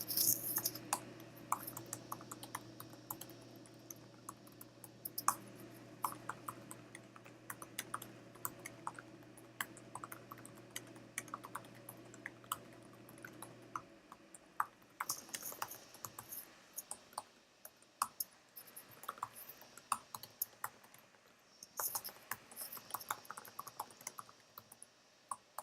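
Someone types CSS code on a computer keyboard in a quiet room, with a long run of light, irregular key clicks that pause briefly midway and then resume.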